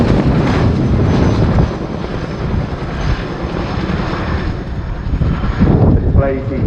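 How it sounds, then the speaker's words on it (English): An RAF Boeing Chinook HC.6 twin-rotor helicopter roars loudly through a flying display at the RIAT 2019 airshow, a heavy, pulsing engine and rotor sound, with a commentator talking over it. "The display you see today really demonstrates how manoeuvrable this extremely large helicopter is."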